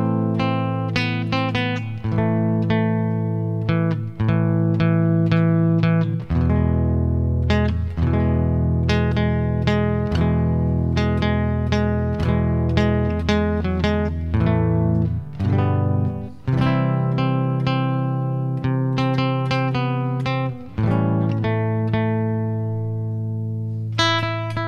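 The Jungle Book theme is played on an instrument run through effects, a sustained melodic line of clear bright notes over held low tones, loud and close, with no talking.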